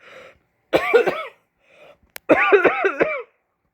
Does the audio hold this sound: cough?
yes